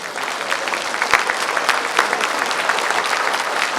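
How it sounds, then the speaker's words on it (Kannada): A standing audience at a Sri Sahasrarjuna Jayanti celebration gives loud, dense applause that holds steady for nearly four seconds, with a few sharper claps standing out from the roar. "ಎದ್ದು ನಿಂತ್ಕೊಂಡು ಚಪ್ಪಾಳೆ ಹೊಡೆದ್ಬಿಟ್ಟು ಅವ್ರಿಗೆ ಶಕ್ತಿ ತುಂಬಿ"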